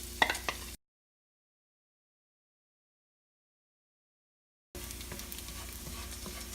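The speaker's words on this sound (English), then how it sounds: "and we add the chopped garlic" Chopped garlic sizzles in hot fat in a pan while being stirred for a Cambodian stir-fried flat rice noodle dish. Close frying and stirring sounds are heard briefly at the start, then a silent gap, then the sizzling returns.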